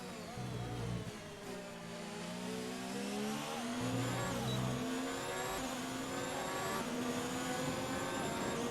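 An F1 car engine in the F1 2019 video game at the United States GP, screaming through rising and falling revs with gear shifts, loud and continuous with no talking.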